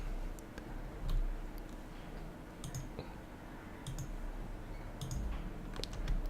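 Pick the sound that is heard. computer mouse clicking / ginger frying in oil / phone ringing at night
computer mouse clicking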